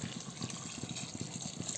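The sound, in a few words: water being poured into a cooking pot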